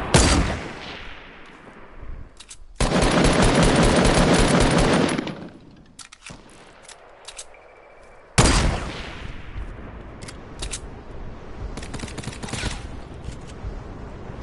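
Rapid automatic gunfire from the video game Fortnite, loud sustained bursts of shots broken by quieter gaps, with scattered single shots and sharp cracks throughout.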